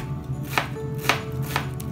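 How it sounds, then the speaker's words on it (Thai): A knife dices an onion on a cutting board: three crisp, evenly spaced chops land over a steady low kitchen hum, close and clear, with no voices. "หอมใหญ่หั่นลูกเต๋าค่ะ"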